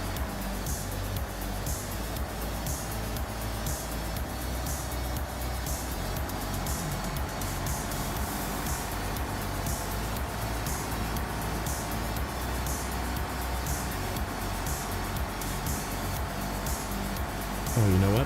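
A heavy truck in the SnowRunner video game whines steadily in high gear, a continuous engine drone with a high-pitched tone running unbroken and fairly loud throughout, with no other sounds over it.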